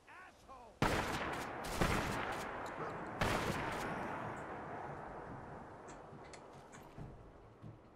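Rifle gunshots in Fallout 4 ring out as a few loud, sharp blasts with long echoing tails, spaced unevenly across the stretch, and the later ones fade to fainter distant pops.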